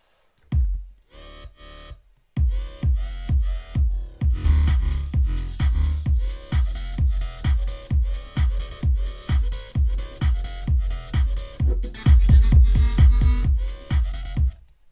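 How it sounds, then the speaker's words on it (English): A bass house drum beat plays alone: a steady punchy kick with claps, snare hits and busy hi-hats in a driving four-on-the-floor groove, starting sparse and then filling out loud and dense. "Very complicated drum beat, but everything you've heard before."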